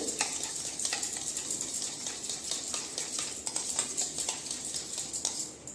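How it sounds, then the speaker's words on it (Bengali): A spoon beating yogurt in a pan, making rapid, rhythmic scraping and tapping strokes with a faint background sizzle, steady and close throughout. "দইটা আমি ফাটিয়ে নিব একটু এইভাবে করে চামচ দিয়ে"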